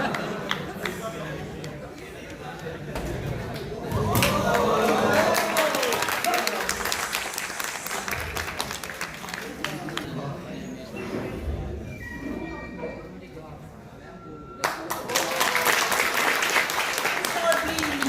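An audience claps and applauds in a dense, sustained wash, with chatter and voices mixed in throughout and a louder burst of clapping near the end.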